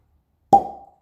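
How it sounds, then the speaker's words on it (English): A single sharp cork pop as the stopper is pulled from a bottle of Old Ezra 7-year cask strength whiskey, close and loud, followed by a short hollow ring that fades within half a second. "pause for the cork pop."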